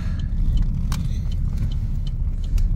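Car interior drone while driving along behind another car, a steady low road rumble with engine hum throughout and a few faint rattles and clicks.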